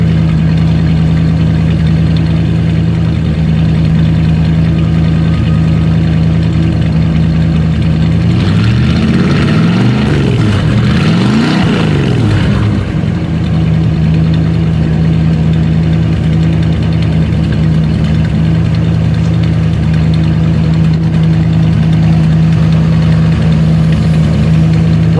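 An old Buick engine idles steadily after startup, a loud, close, low rumbling drone that holds even throughout, with a brief rise and wavering in the middle before settling back to idle.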